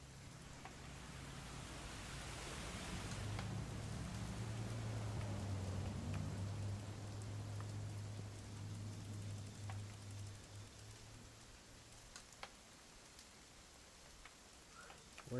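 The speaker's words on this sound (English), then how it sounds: "It's gonna rain the whole weekend, isn't it?" Rain falling in a video game, a soft steady hiss with scattered faint ticks of drops and a low hum beneath, fairly quiet and continuous.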